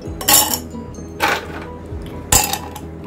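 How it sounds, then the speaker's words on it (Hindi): Ice cubes drop into two glasses in three separate bright clinking bursts, spaced about a second apart, close and fairly loud. "हम सबसे पहले 2 ग्लास लेंगे, उसमें आइस क्यूब डालेंगे टू मेक इट चिल"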